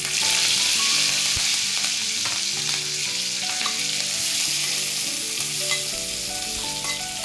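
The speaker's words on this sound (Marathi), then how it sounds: "कांदा चांगला लालसर होईपर्यंत परतून घ्यायचा आहे" Onion, cumin and curry leaves fry in hot oil in a kadhai, giving a loud, steady, close sizzle that continues without a break and with no talking.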